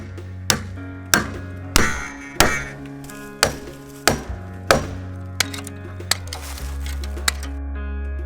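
Fence staples are hammered into a wooden fence post with sharp, ringing blows about every half second to second, gradually lighter, over a low engine-like hum.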